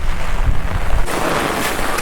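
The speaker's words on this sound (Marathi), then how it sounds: "एकदम पाठीमागे वारा सुटला आणि पाऊस पण खूप आहे" Strong wind and heavy rain roar at a creek-side clam-digging spot, a loud, steady rushing wash that buffets the microphone and grows brighter and harsher partway through.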